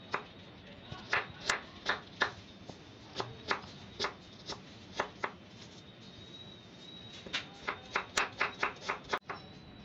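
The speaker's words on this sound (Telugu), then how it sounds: "ఇప్పుడు ఉల్లిపాయ తరుక్కుందాం" A knife chops onion on a board in quick, evenly spaced taps. The taps pause briefly partway through, then resume in a faster run, fairly quiet and close.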